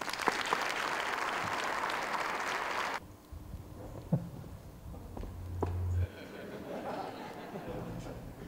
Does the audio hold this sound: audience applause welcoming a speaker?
yes